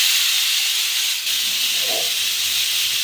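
A pressure cooker with porridge inside releases steam in a loud, continuous hiss that holds steady throughout, with a faint low rumble beneath it.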